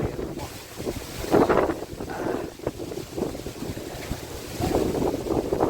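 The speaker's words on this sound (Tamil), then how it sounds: "இந்த மாதிரி அழகான சில்லுன்னு காற்றுல எங்கெல்லாம் கிடைக்குமா?" Gusty wind in open farm fields buffets the microphone in uneven, rumbling bursts that rise and fall, with a faint wash of water underneath.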